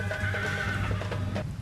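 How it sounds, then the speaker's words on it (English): A horse whinnies, the sound effect for a winged horse in a narrated religious tale: one loud, close neigh rising and wavering for about a second, with faint hoof-like knocks underneath. "Burak, whose name means lightning, whinnied and allowed Muhammad to vault on its back."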